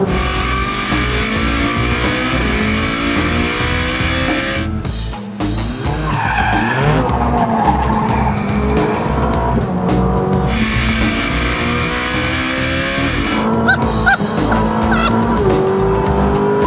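A high-revving Ferrari 458 Speciale engine screams through repeated climbs past 5,000 rpm and gear changes, with tire squeal and skidding, loud and close throughout.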